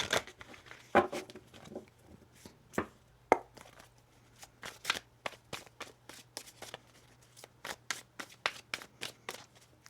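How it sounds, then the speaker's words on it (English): A tarot card deck is shuffled by hand, heard as a series of crisp riffling and snapping card bursts at irregular intervals. The sounds are close and clear against a quiet room with a faint low hum. "One more shuffle here."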